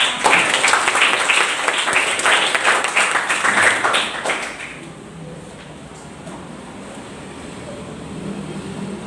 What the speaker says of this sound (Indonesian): Tepuk tangan untuk Raka.